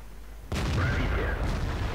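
Tank cannon fire in World of Tanks from an Object 430 Version II: one sudden loud boom that hits at once and rolls on as a sustained rumble, with no talking.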